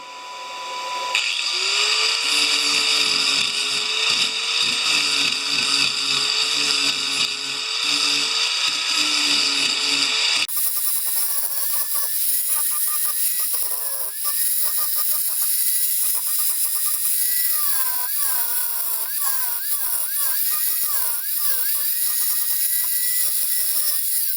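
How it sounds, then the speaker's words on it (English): An angle grinder with a flat disc shapes a railroad spike during amateur blacksmith forging, giving a loud, continuous high whine that holds steady for about ten seconds and then shifts to a thinner, wavering grind as the disc bites the metal. "we're going to be using an angle grinder with a flat disc. So things are about to get loud"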